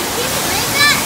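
A waterfall pours in a loud, close, unbroken rush of water that fills the whole moment, with a brief higher tone surfacing near the end.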